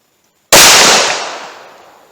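A single sharp handgun shot rings out from a .45 Auto or .357 Magnum into a block of wood, a loud close crack after half a second of silence that decays over more than a second and a half.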